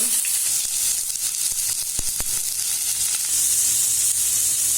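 Onions sizzling in two tablespoons of hot oil for a raw green tomato chutney, a loud, steady hiss with a few sharp pops and crackles, close up.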